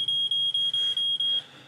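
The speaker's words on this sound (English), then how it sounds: "Smoke alarm." A household smoke alarm gives six rapid, evenly spaced high-pitched beeps, loud and close, then stops.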